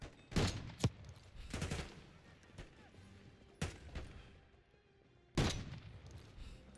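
Gunfire in Call of Duty Black Ops 6, a few sharp isolated shots and short bursts spaced several seconds apart, fairly near, with a low rumble between them.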